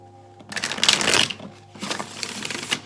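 Tarot cards riffle-shuffled close up in two rapid fluttering bursts, separated by a short pause, with no talking.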